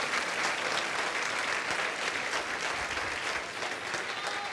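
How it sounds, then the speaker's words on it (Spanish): A church congregation applauds for the Lord with sustained, dense clapping from many hands, loud and even throughout, and faint voices mixed in. "Dale un aplauso fuerte a Él"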